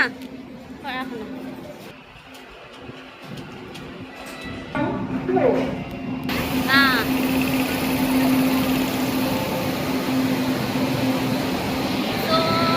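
A crowded passenger train at a railway station during a festival rush: a steady low engine hum and rumble that grows louder and fuller partway through, with people talking nearby and a few brief squeals.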